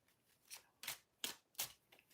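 A deck of tarot cards riffled and shuffled in four quick crisp bursts, close by and quiet, with short pauses between.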